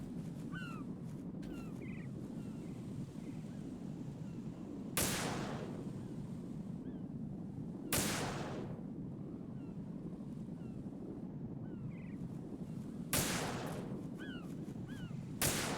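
Gunfire in the video game Metal Gear Solid 2: Substance: three sharp, distant-sounding shots spaced several seconds apart over a constant low rumbling background, with no talking.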